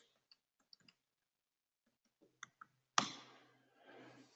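Sparse, quiet keystrokes on a computer keyboard while a password is entered, a handful of isolated clicks spread over a few seconds, then a louder thump and a short rustling noise.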